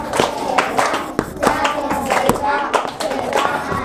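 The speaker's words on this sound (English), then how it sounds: "Clap for Aliyah" Children in a Grade 2 classroom clap for a classmate in a brief burst of scattered, uneven hand claps, with some voices mixed in.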